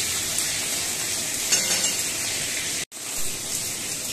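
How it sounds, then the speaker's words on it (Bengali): Pieces of fish fry in hot oil, producing a dense, steady crackling sizzle that fills the whole stretch, close and fairly loud, with a brief cut near the end. "বাকি মাছগুলো আমি ভেজে নিচ্ছি"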